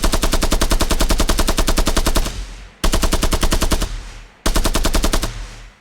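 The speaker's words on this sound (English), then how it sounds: "now when we shoot this gun" Automatic gunfire from a weapon in an Unreal Engine 4 multiplayer FPS template game: three loud bursts of rapid, evenly spaced shots, each ending in a short fading tail.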